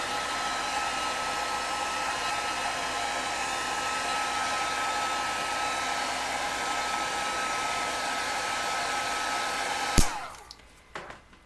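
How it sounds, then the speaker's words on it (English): A heat tool drying a mixed media card blows with a steady loud whirring hum for about ten seconds, then clicks off with a sharp snap and fades, followed by a couple of small taps. "So, okay, I'm going to dry this and then I'm going to add a little bit of a darker color. Sorry if you don't like the heat tool,"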